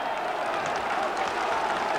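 Football crowd at a Swindon Town versus Charlton Athletic match, a steady roar of cheering and clapping from a large stadium audience filling the background.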